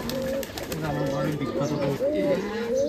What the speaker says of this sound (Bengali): বিখ্যাত কবুতর এগুলো আমার ঘরে